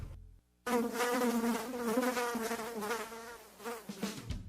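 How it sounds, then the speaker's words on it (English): A mosquito whines in a loud, close, continuous buzz that wavers in pitch as it hovers, starting after a short pause and fading toward the end, used in a radio advertisement for pest control. "Mosquitoes, bedbugs, termites, are they biting around your home?"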